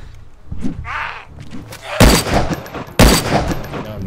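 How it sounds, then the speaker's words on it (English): Two loud, close gunshots ring out in DayZ Standalone, about a second apart, each a sharp crack with a short tail, following quieter thuds and a faint voice. "Me shooting."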